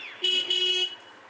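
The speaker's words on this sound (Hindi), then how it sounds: "कौन लफंगा हॉर्न मार रहा है?" A single car horn honk, a bright steady tone held for about two-thirds of a second, moderately close and alone.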